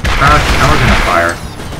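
Spread rocket fire in the video game Borderlands, a loud burst of layered whooshing and rumbling blasts that runs for over a second before dropping off.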